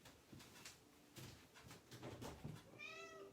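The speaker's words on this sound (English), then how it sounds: "my cat wants to come in" A cat meowing to be let in, a faint, close meow near the end after scattered shuffling noises, quiet overall.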